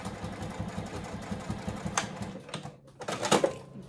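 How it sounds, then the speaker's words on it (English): A sewing machine stitches down the binding on a Sallie Tomato circle bag, running in a steady rapid rhythm for about two seconds, then pausing briefly before another short burst. "But I am going to sew my binding down."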